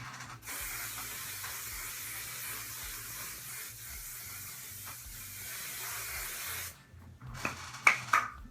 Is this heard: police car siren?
no